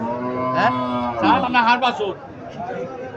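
A Haryana breed cow lets out long, low moos at a market, with people chattering and murmuring in the background.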